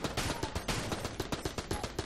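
Rapid, evenly spaced bursts of gunfire in the Enter the Gungeon video game, a steady rhythmic stream of sharp shots at moderate level with no talk.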